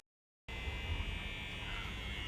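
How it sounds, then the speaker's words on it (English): A microwave oven heating curry gives a steady close electrical hum with a constant whirring drone, starting abruptly after a short silence and continuing evenly. "The sound of my curry being warmed up in the microwave."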